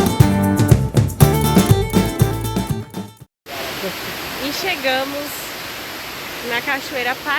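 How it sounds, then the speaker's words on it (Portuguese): Paraíso do Cerrado waterfall in Mambaí, Brazil, roars as a steady broadband rush after a burst of music cuts off, with a voice talking over the constant pouring water. "na Cachoeira Paraíso do Cerrado"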